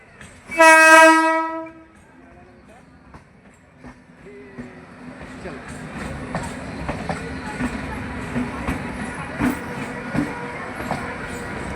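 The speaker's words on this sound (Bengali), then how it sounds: "এই ট্রেনটা চক্র রেল তোমরা জানো এটা বাগবাজার স্টেশন ঢুকছে" A Kolkata Chakra Rail circular train pulls into Bagbazar station, opening with a loud blast of the horn, then a rumble and rattling wheels building steadily under a few faint voices.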